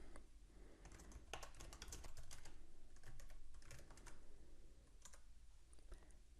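Typing on a computer keyboard to enter chat text, a steady run of soft, close key clicks in quick bursts with brief pauses, alone without speech.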